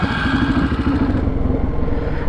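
A Polaris Predator 500 quad bike engine roars loud and close in a steady, rough, throbbing drone, holding a constant pitch for the whole stretch.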